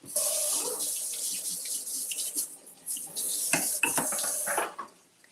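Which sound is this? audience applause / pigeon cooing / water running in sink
water running in sink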